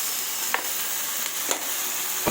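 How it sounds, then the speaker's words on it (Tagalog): A salmon head sizzles and fries in a pan as fish sauce goes in, with a steady hiss broken by a few sharp spits and pops. "lagyan natin ng patis"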